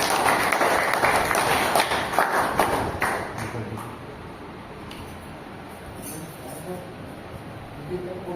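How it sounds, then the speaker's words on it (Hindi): An audience at a Hindi review meeting breaks into loud, dense clapping that gradually fades to scattered claps, with someone speaking over it. "एक बार जोरदार तालियां"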